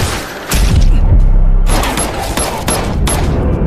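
Gunfire rings out in a mafia action film scene: loud, rapid bursts of overlapping shots with booming impacts, coming in clustered volleys separated by short gaps.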